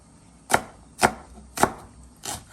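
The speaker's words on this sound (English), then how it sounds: "We'll chop these a little bit more finer in a few." Vegetables for Guyanese stewed smoked fish are chopped with a knife on a board, four distinct sharp thuds at a slow, even pace, close and clear with no talking.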